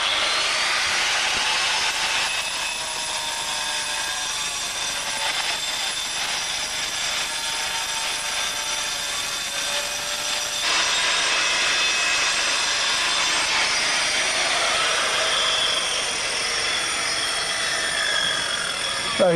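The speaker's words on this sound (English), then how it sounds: "using an angle grinder with a diamond blade" Angle grinder fitted with a diamond blade cutting into stone on a Grade 1 listed building, a loud sustained high-pitched whine and grinding roar that shifts slightly in pitch as the cut progresses.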